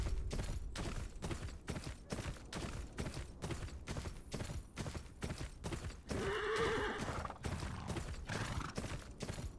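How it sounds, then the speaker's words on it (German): A horse in Game of Thrones: Kingsroad gallops along with a fast, even clip-clop of hooves, then gives a loud whinny partway through, and no one speaks over it. "Das Pferd driftet richtig."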